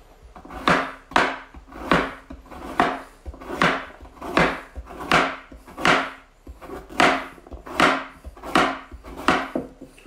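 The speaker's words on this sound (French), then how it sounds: "Bon, les carottes, ça va pas fondre. Donc, on peut les couper un peu plus finement." A knife chops unpeeled carrots on a wooden board in a steady run of about a dozen crisp, evenly spaced strokes, close and fairly loud, with no talking.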